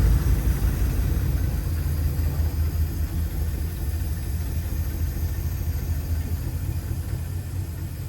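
1952 Cadillac engine running as the car backs up in a shop, a steady low idling rumble that stays close and even, slowly easing slightly in loudness, with no talk over it.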